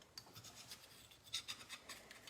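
A teaspoon scraping up sodium chloride salt crystals in short, faint scratchy strokes, close and quiet with no talk.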